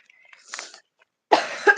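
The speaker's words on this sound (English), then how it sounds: "I've been coughing all day" A person sick with a cold coughs: a muffled throat sound first, then a pause and two harsh, close coughs in quick succession.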